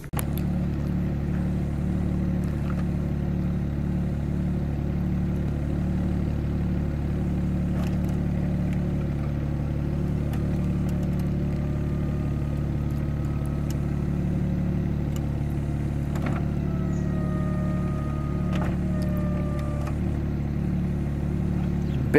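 A BMW 335i convertible idling with a steady, close mid-pitched engine hum while the roof folds down; faint mechanical whirs and clicks come through late in the cycle.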